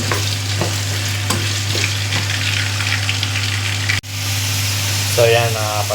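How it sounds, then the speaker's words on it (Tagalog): Beef kaldereta stirred and frying in a pan, a steady loud sizzle with scraping stirs throughout, a brief drop near the middle, then bubbling crackle toward the end. "So, halo-haloin lang po hanggang sa maging kulay brown siya, no?"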